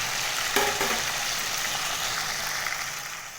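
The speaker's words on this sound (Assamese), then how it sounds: "ধুনীয়াকৈ টাইটকৈ আমি ৰঙা পৰাকৈ ভাজি ল'ম।" Fish frying in hot oil in a pan, a steady dense sizzle that runs throughout the clip, with a brief stir or clatter near the start.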